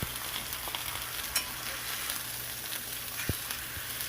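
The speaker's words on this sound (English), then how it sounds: "I'm going to sear it on each side for 5 minutes" Chicken sears in a frying pan with a steady, bright sizzle and crackle throughout, a few small pops and a soft clunk from turning the pieces, close by and without talk.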